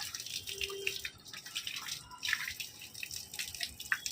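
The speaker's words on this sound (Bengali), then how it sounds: "পাঁঠাটা এখনই জল খাবে, নে খা" A goat drinks water, with faint, irregular wet laps and drips close by against a quiet outdoor background, and no talking.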